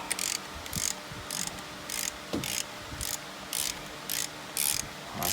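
On a Jeep Liberty tensioner pulley, a hand ratchet removes a bolt with about ten short bursts of clicking. The bursts repeat in a steady rhythm at close range with faint clanks in between.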